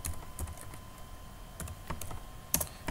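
Someone types on a computer keyboard in quick irregular bursts of soft clicks, with a steady faint hum beneath.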